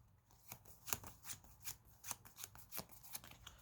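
Quiet, close riffling of playing cards, a series of quick rhythmic shuffles, each a brief papery flutter.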